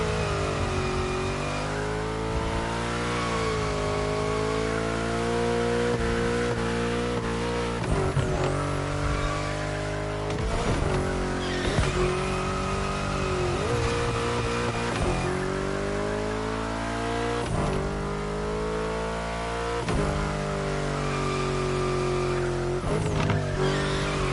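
A race car engine in the video game Motorfest revs and accelerates loudly and continuously, its pitch climbing and dropping through repeated gear changes, with occasional tire squeal from hard cornering.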